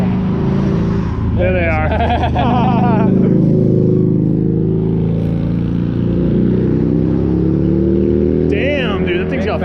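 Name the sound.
car driving past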